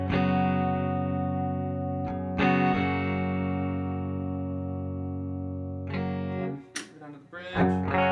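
An electric guitar plays clean on the neck humbucker through a Walrus Audio Deep 6 compressor and a Sky Pedals Cloud 9 reverb. Sustained chords ring out long, then fresh strums follow with a short pause before the last one.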